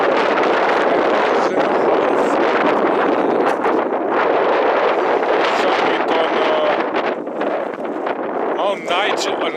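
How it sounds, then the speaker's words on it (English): Strong wind buffeting the open rocky summit of Nigel Peak along the Icefields Parkway, a loud continuous roaring gust noise across the microphone that swells and dips slightly without pause. "it's not gonna be blown by the wind"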